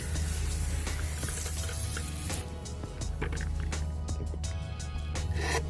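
A pump sprayer mists plain water onto a car wheel with curb rash, producing a steady, close hiss with wet spattering and dripping throughout.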